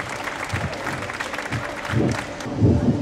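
An audience at a Greek Chem-E-Car competition applauds the competing teams, with steady clapping that swells in bursts and grows louder toward the end.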